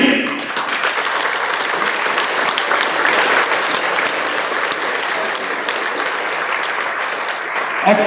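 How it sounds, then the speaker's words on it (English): Freshers at a B.Tech inaugural ceremony stand and cheer for their parents, with sustained, loud applause from a large crowd filling the hall steadily from start to finish. "May I request the freshers, all of you, to please stand up and cheer for your parents"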